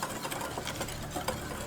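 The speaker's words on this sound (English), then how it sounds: "I'm gonna whisk it up, get it all nice and incorporated." Rapid whisking of flour seasoned with garlic powder in a bowl, a busy, even scratchy clatter running steadily throughout with no talk.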